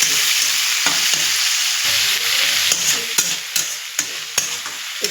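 Bitter gourd, potato and chickpeas hit hot oil and fry with a loud, close sizzle, broken by repeated stirring scrapes and clatters against the pan, with no talk.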